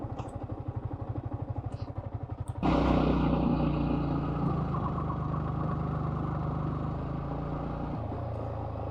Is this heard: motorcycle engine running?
yes